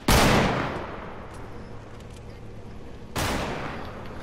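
A minigun firing in Fortnite, two loud sustained bursts of rapid fire, one at the start that fades into a long roaring tail and another cutting in near the end, close and heavy.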